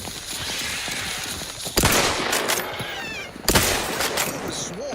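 Plasma weapon fire aimed at spider swarms in The Outer Worlds 2, a harsh crackling hiss with two loud sudden bursts over a noisy battle, a voice shouting briefly.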